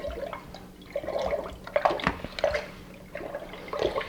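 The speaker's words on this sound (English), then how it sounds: "we're going to go ahead and give this a stir." Simple syrup being stirred into a glass of vanilla lemonade, a run of close, soft liquid swishes and drips in uneven bursts over about four seconds, with no talking.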